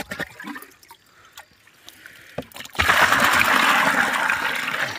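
Water gushes steadily onto 2 kg of pure black organic jaggery, starting after a few quiet knocks and continuing as a loud, close, continuous pour.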